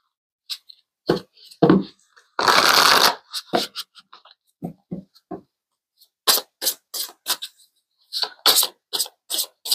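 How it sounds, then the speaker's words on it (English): Tarot cards shuffled and drawn from a deck: a dense riffle burst in the middle, flanked by scattered crisp flicks and snaps as cards are pulled and laid down, close and clear with no talking. "let's pull some more cards."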